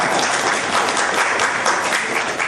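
An audience at a school cheque presentation ceremony breaks into steady, dense applause, loud and sustained throughout with no pauses.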